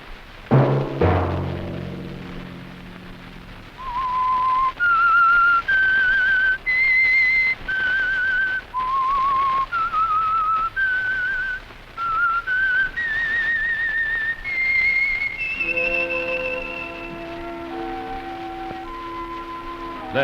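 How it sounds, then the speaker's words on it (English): A whistled melody, the theme of The Whistler radio mystery program, rises in clear, loud sustained notes one after another, with an orchestral chord swelling in beneath the last phrase. "Let that whistle be your signal for the Signal Oil program, The Whistler"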